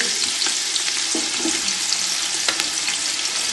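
Capsicum, spring onion and carrot fry in a pan while being stirred, giving a bright, steady sizzle with soft scraping from the stirring and no talking.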